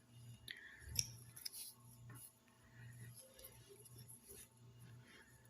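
Scissors cut crochet yarn for a bathroom rug with a quiet snip, followed by faint handling sounds close by.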